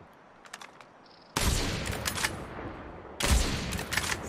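Heavy-calibre sniper rifle fire in the video game Call of Duty Mobile: after faint clicks, two loud, booming shots land about two seconds apart, each followed by a long rumbling tail, with no talking.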